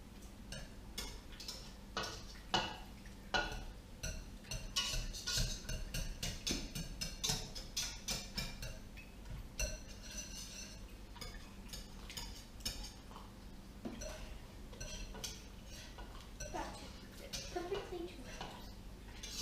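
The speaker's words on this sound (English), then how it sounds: "So right now, I'm still roughly mashing with the whisk." A whisk roughly mashing food in a pot of vegan tomato soup, giving irregular clinks and scraping taps of metal against the pot, with faint background noise and occasional quiet talking.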